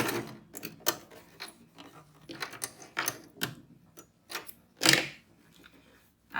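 Sewing machine stitching a straight seam along the edge of fabric, two layers placed right side to right side, for a fabric wallet. It gives bursts of close mechanical clatter and ticking in uneven runs, with brief pauses and no speech.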